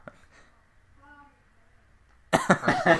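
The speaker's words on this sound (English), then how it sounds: "It's a cough." A single short cough, near and fairly loud, comes after a quiet stretch with only faint sounds.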